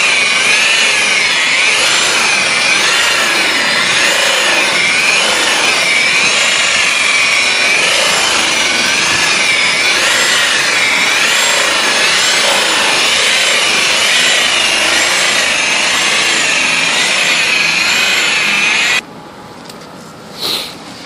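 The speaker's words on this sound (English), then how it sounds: "it's been buffed out with a black wool pad, or you can use any wool pad or heavy-duty cutting pad" A wool buffing pad works cutting compound across car paint, producing a steady, continuous whirring rub with a slightly wavering pitch that runs loud and unbroken before cutting off near the end.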